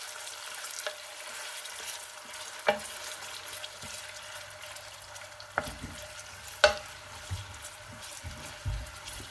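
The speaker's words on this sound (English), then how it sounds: "add 3 sliced white onions and fry them for about 5 minutes on medium heat" Sliced white onions fry in hot ghee in a pan, giving a steady low sizzle with occasional clinks and stirring knocks, fairly quiet and close, with no talking.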